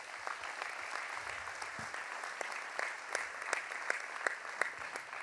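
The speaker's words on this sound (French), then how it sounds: "on peut les applaudir très fort." Audience applause following a New Year's address, steady dense clapping from a crowd with a few sharper individual claps standing out, moderately loud and continuous throughout.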